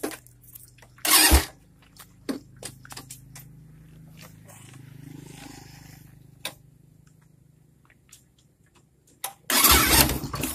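A modified Suzuki Thunder 125 motorcycle engine cranks in two loud bursts, one near the start and one at the end, with quieter clicks, taps and a faint low idle-like hum in between.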